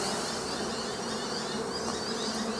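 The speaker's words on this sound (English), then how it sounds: "These are worker bees that are flying." Dense, continuous buzzing of many worker bees in flight after being shaken from hive frames in a bee yard, a close steady drone.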